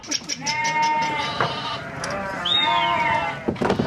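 Several lambs bleat in overlapping, wavering cries close by, with a steady low murmur of other animals in the background.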